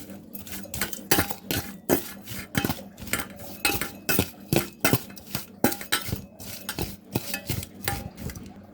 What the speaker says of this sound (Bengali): এখন সামান্য একটু লবণ দিয়ে দিচ্ছি, সামান্য একটু হলুদ দিয়ে দিচ্ছি, ভালো করে মেখে নিচ্ছি